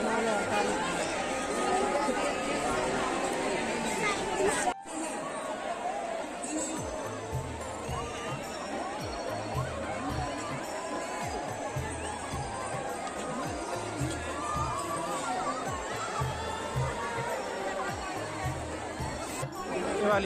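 A vast crowd of pilgrims at the Haridwar ghats, a steady dense babble of many voices with footsteps and bustle filling the whole stretch, loud and continuous.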